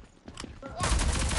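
Gunfire in the Rogue Company shooter game, a burst of rapid shots that starts partway through and keeps going loud and dense, with faint game sounds before it.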